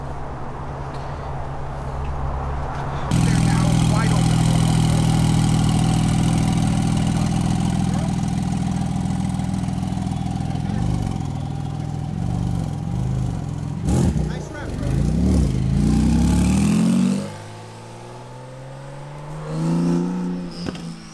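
Several exotic McLaren cars, including a 600LT, a Performante Spyder and a 720S, idle and rev as they roll out of a dealership, with a loud steady engine drone, surging revs and a drop-off near the end.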